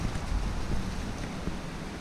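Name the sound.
waterfall rushing, Sherman Falls in Hamilton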